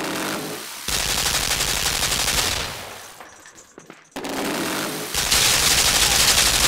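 Bursts of rapid machine-gun fire from the side-scrolling puzzle game Limbo, loud and sustained, breaking off briefly into quieter rumbling before the rattling volleys resume even harder.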